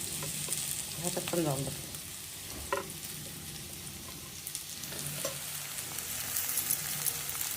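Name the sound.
potatoes frying and being stirred in a pan for sabudana khichdi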